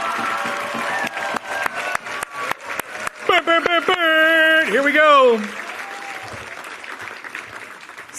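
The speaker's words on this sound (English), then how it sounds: "another thunderous, giant, biggest round of applause you've ever given in your life" Audience applause at a Braille Challenge Finals award ceremony, swelling under a host's amplified voice and punctuated by sharp claps, with a sustained tonal musical swell midway before the crowd noise thins out.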